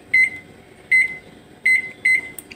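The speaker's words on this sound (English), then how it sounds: "So you hit clock and then you put the time" A Hamilton Beach microwave's keypad gives four crisp, evenly spaced double beeps as its buttons are pressed to set the clock. The beeps are close and clear over a faint background hum, with no talking.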